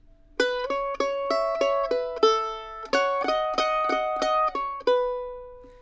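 Mandolin plucks the closing phrase of the bluegrass tune "Tobacco Patch", a run of bright, ringing single notes in a steady rhythm, up close and clean, ending on a sustained note.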